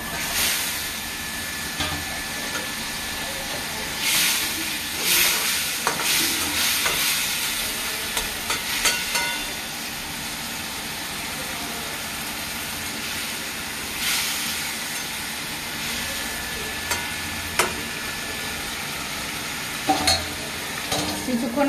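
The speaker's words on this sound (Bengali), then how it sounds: "মাছটা দিয়ে দেবো" Rohu fish fries with tomato in a pan, a loud continuous sizzle close by with occasional sharper spits and stirring scrapes throughout, no voices.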